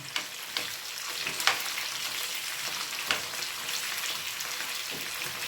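Chicken pieces fry for biryani in hot oil, giving an even, close sizzling hiss with occasional louder spits and pops and faint stirring, no voices over it.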